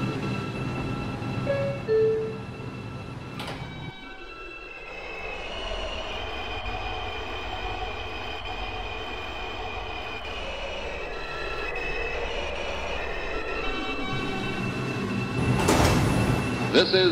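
New York City subway 5 local train bound for Eastchester–Dyer Avenue, a steady loud rumble and hum inside the car with door chimes, a sliding door and recorded announcements spoken over it.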